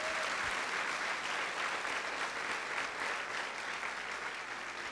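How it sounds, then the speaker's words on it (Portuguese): A church congregation applauds steadily and fairly loudly throughout, a dense continuous wash of clapping with no clear talk over it. "Aplauda Jesus."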